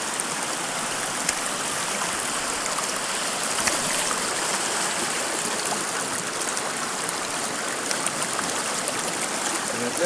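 Water rushes steadily through a gold sluice box lined with Gold Hog mats, a continuous close, even wash and gurgle with no break.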